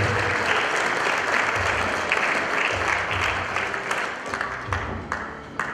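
Loud, sustained crowd applause welcomes two guests at a quinceañera celebration, a dense continuous roar of many hands filling the whole stretch.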